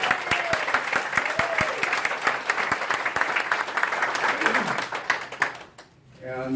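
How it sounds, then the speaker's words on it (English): Audience applause at a tax consulting seminar in Dallas, a dense round of clapping from the crowd with some sharp individual claps standing out, a voice speaking over it before the clapping fades near the end. "Another round of applause."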